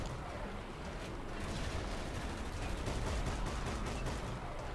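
Dense, continuous automatic rifle fire from the shooter game Dark Sector, loud rapid bursts rattling without pause across the whole stretch, with no talking over it.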